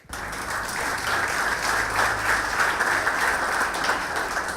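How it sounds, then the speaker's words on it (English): A conference audience gives a round of applause for a speaker at a talk on serverless computing, the clapping starting abruptly, then holding thick and even at moderate loudness to the end. "Round of applause for Patrick."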